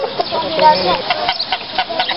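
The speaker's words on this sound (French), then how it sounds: "Donc là ce sont des poules Brahma perdrix, c'est comme ça qu'on les appelle." Brahma partridge hens at an animal park cluck in a busy, overlapping stream of short calls, with a faint voice in the background.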